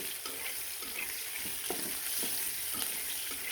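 Chopped onions dropped into hot oil just used for frying potatoes give a steady, close, dense sizzle that fills the whole clip, with a few soft stirring knocks in the pan and no voices.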